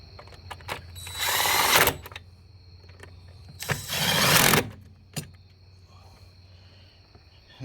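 An impact wrench with a 10mm socket works on an Audi 3.2 V6 FSI engine during a valve cover job, with two loud, close bursts of about a second each separated by quiet and light clicks.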